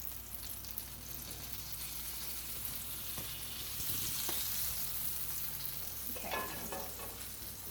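Butter sizzles in a crepe pan with a steady, fairly faint crackling hiss and a few brief scrapes and ticks, heard alone.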